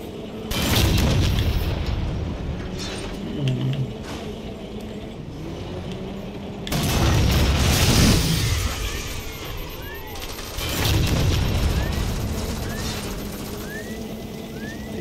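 A tank driven in the Halo 4 custom map Gas Town, heavy mechanical clanking and rumbling with deep booms rising in three loud surges, plus some creaking and whining machinery over about fifteen seconds.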